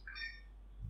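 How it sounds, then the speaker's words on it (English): An APC Back-UPS BX600C-IN gives a short, clear electronic beep when its button is pressed, a single bright tone over a low mains hum, close and fairly loud. "just to press it, you hear the beep sound"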